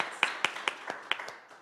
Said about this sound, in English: Let's give them all a rousing round of applause.